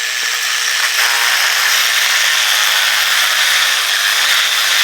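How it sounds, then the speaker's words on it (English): A small high-pitched micro drill whines steadily and loudly while enlarging a hole in a corkscrew, grinding continuously without pause. "And now I put it in the micro drill"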